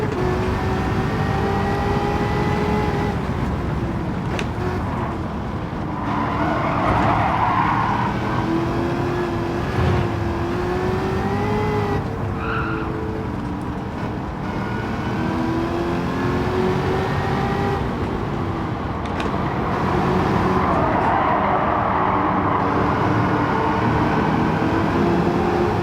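Corvette race car driven hard in the racing game Gran Turismo 7, its engine droning and rising and falling through gear changes, with a couple of hissing tire skids breaking through during a long, loud run.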